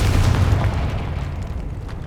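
A Confringo spell explosion in the video game Hogwarts Legacy, a single deep booming blast that fades out over a couple of seconds.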